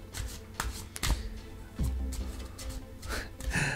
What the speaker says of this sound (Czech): A já tady mám karty Andělů Hvězdného Avalonu.